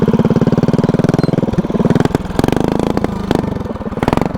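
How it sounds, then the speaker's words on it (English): A vertical-shaft engine mounted horizontally on a small homemade vehicle runs close by in low gear, its steady pulsing chug shifting rhythm and load as the throttle changes, with a few sharp clanks. "This engine is running super great."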